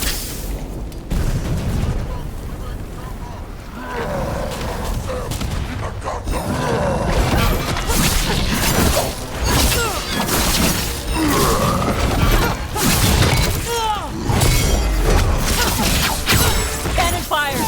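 Cannon fire in Dragon Age: The Veilguard, heavy booms and crashing impacts with shattering debris amid loud battle noise, with voices shouting over the barrage.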